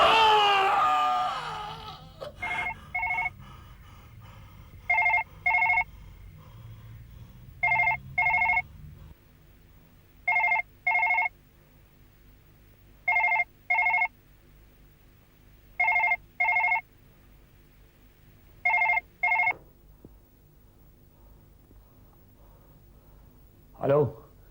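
A telephone rings late at night in a Hindi TV horror serial, giving about seven loud, evenly spaced double-burst rings. A brief vocal outburst comes before the rings.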